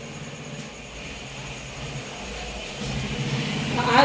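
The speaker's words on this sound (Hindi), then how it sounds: "बाइक की आवाज़ आ रही है" A motorbike passes in the street outside a village house. Its engine drones steadily and grows louder toward the end as it approaches.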